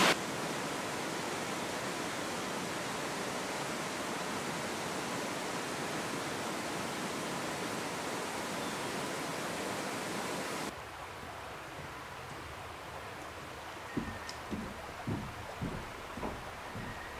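Low-flow waterfall at Delaware Water Gap gives a steady, broad rushing hiss for about ten seconds, then drops to a quieter background with a few soft knocks near the end.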